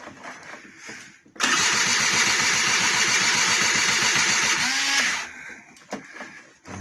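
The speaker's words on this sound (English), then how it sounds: "Give it some revs" A 1999 SYM Jet 50cc scooter turned over on the electric start while the throttle is opened, a loud sustained buzzing churn with a rapid pulse lasting several seconds before it stops, with quieter handling noises around it.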